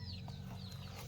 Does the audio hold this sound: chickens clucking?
yes